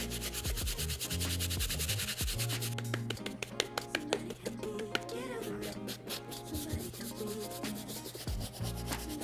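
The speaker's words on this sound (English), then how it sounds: "I'm working on the midsole right now with our medium bristle brush" A medium bristle brush scrubs the midsole of a Converse sneaker with close, dense scratchy strokes in a fast, uneven rhythm, with a few sharp knocks and a low hum underneath.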